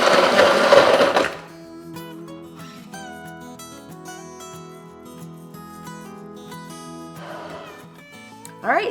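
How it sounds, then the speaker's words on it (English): A high-speed blender on its frozen drink setting whirs loudly while blending a milkshake. A roaring burst at the start gives way to a quieter steady hum, then the loud blending returns briefly at the end. "you could use any high-speed function on your blender"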